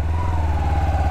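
Kawasaki Ninja 250 R motorcycle from 2010 idling, a steady low engine rumble with an even pulsing throb, loud and close, with no talk over it.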